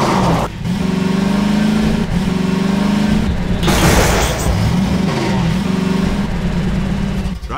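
Vehicle driving in Half-Life 2, a steady engine drone with shifting pitch that runs loud and continuous, with a brief burst of noise midway and no talk.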